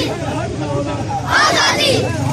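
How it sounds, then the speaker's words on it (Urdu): A protest crowd gathers around a UNA vehicle at a rally in Gulpur Chowk and chants slogans. Many voices shout together loudly and close by, rising into a stronger burst of chanting partway through. "عوام نے گاڑی کے گرد جمع ہو کر پرجوش انداز میں نعرے لگائے"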